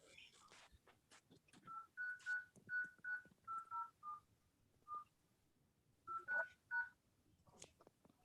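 A series of DTMF keypad tones dialing into a Zoom meeting's phone line, about a dozen short beeps in irregular bursts, fairly clear over faint background voices.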